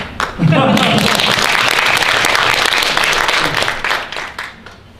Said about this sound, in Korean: 지금 박수를 쳐야 되나요?